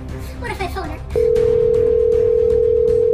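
A steady telephone tone sounds as a call is placed on a phone, starting after a short burst of speech and holding loud and unbroken for about two seconds.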